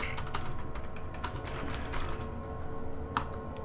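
Rapid clicking of computer keyboard keys, close and steady, a run of sharp taps over a low background hum.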